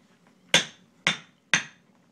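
A child strikes with a toy hammer, three sharp, evenly spaced knocks close to the microphone over a quiet background.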